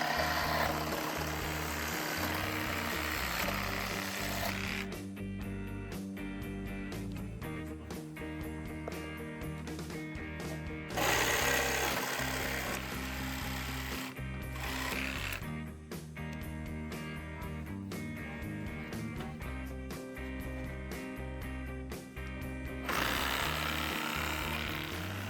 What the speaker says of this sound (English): we will use electric saw with the special blade that is ideal for cutting nails